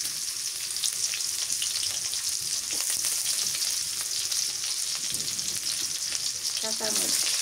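Chopped onion fries in hot oil in a village kitchen, giving a continuous dense sizzle close by, with a brief clatter of stirring near the end.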